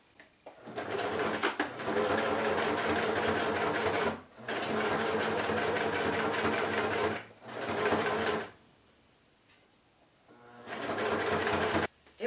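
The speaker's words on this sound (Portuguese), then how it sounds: "Aí agora eu vou começar a prender aqui o viés." A sewing machine stitches bias binding onto a fabric bread basket with a zipper, running in long, steady, close bursts that stop briefly between runs, with a near-silent pause before the last burst.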